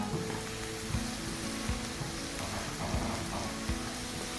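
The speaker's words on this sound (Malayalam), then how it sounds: "അപ്പോൾ നല്ലപോലെ ഉള്ളി വഴണ്ട് വന്നിട്ടുണ്ട്" Onions sauté in a hot pan for masala puttu, a steady soft sizzle and crackle with a few faint scraping stirs, no voices.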